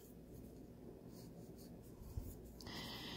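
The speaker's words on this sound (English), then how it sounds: "So I'm going to erase here." Pencil lines being erased from paper, a steady close scratchy rubbing that runs throughout, growing a little louder toward the end.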